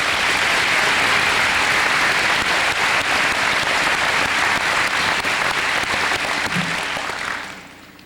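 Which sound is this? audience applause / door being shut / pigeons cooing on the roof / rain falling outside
audience applause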